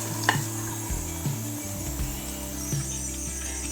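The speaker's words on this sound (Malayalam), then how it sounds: "ഈ മസാലയൊക്കെ കഴുകി വെച്ചിരിക്കുന്ന അരി ഇട്ടിട്ട് നന്നായി ഒന്ന് വറുത്തെടുക്കാം" Washed rice frying and being stirred in prawn masala in a pan, a steady soft sizzle with occasional scrapes and knocks of a spoon against the pot, close and continuous, no talking.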